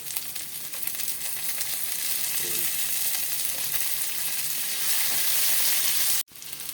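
Garlic and onion sauté in a hot pan for tocho with bangus, a steady loud sizzle and frying hiss running continuously close by, with a brief soft stir near the middle and a sudden cutoff near the end.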